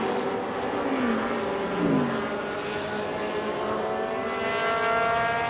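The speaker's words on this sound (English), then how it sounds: "That is Peter Fist in his Lola T290, another of our 2-litre sports racers." A Lola T290 2-litre sports racing car, number 30, circulates at Silverstone with a steady, loud engine drone and shifting pitch, heard at a distance through the whole stretch with no talk.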